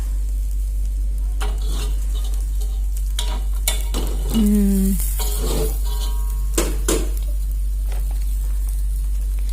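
Eggs fry in plenty of hot oil in a pan, a low continuous sizzle broken by sharp scraping and clattering stirring strokes, with a brief bubbling burst near the middle.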